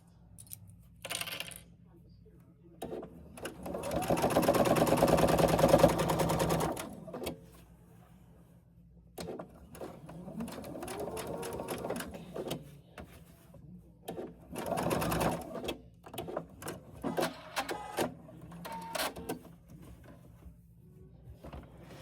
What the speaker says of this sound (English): each time that you are adding a row to this, don't forget to backstitch your stitches from your start and your ending spot